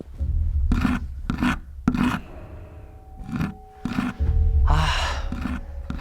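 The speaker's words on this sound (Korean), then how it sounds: "뭔가 긁는 소리가 들리는 겁니다" Repeated rasping scratches in a dramatized Korean horror tale, several short bursts of rough scraping separated by pauses, close and fairly loud, with faint tonal hums underneath.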